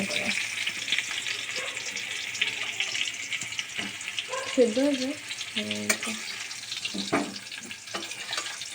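Potatoes fry in hot oil in a home kitchen, giving a steady loud sizzle with occasional utensil clinks and brief clatter partway through.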